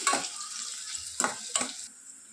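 Thinly sliced onions frying in hot oil in a home kitchen give a steady soft sizzle. Three sharp scrapes of a spoon stirring the pan stand out above it.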